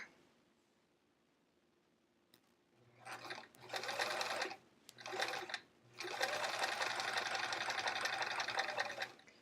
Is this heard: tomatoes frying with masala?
no